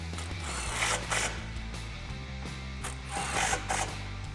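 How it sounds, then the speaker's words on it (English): Ratchet with a 13mm socket and extension tightening factory bolts while fitting a Borla cat-back exhaust on a 2018-2019 Mustang GT: rapid, continuous close-up clicking of the pawl with no talking. "Grab your 13mm socket and extension and tighten down the bolts."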